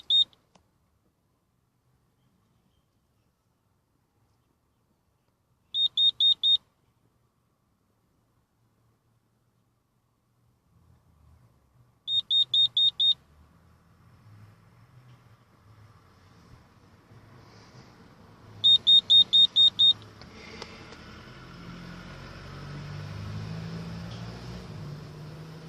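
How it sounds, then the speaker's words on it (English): A man-down safety alarm device beeping in short rapid bursts of high tones, four separate groups spaced several seconds apart, clear and close over near silence, with low rumbling background noise building toward the end. "notification that it has to move or is going to trigger an alarm"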